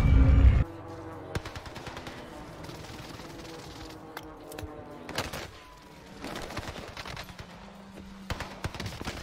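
Rapid automatic gunfire in the battle royale shooter Warzone, with a loud opening burst followed by scattered shots and bursts in the game mix, some faint voice underneath.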